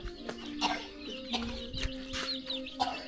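Chickens in a traditional rural Lao village cluck and squawk in scattered bursts at moderate distance, several birds calling over a steady outdoor background.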